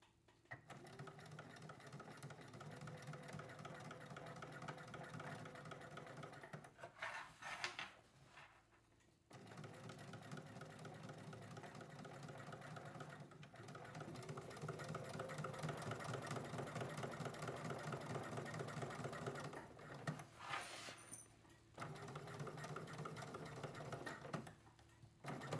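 A sewing machine running steadily while stitching seams along the top edge of a backpack, a continuous mechanical whir with two brief pauses, fairly quiet and with no talk.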